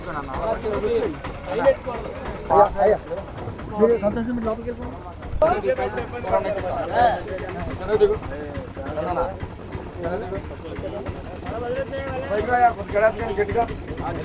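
A low, steady boat motor drones beneath continuous close-up talking, with wind buffeting the microphone throughout, on floodwaters near Vijayawada.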